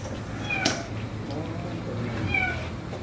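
Kitten stuck inside a car engine bay gives a couple of thin, high meows, one near the start and another toward the end, over a low steady background hum.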